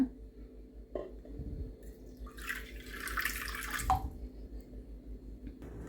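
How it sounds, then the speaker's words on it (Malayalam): Water pours briefly into a cracked clay pot being repaired, a short splashing gush in the middle of an otherwise quiet stretch, with a few soft knocks around it. "ഞാൻ കുറച്ച് വെള്ളം വീണ്ടും ഒഴിച്ചു കൊടുക്കുകയാണ്"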